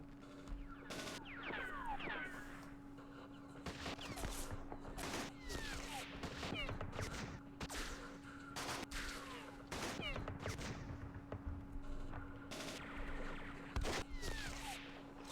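Machine gun fire in the wargame Campaign Series East Front: repeated short bursts of rattling shots and thuds come in scattered clusters over a steady background hum, fairly quiet overall, with occasional voices.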